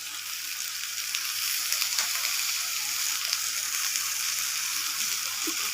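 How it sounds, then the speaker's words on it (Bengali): Soybean paneer curry cooks in a pan with a loud, steady, hissing sizzle throughout. Faint stirring is mixed in. "আবারও একটু নাড়াচাড়া করে নেব"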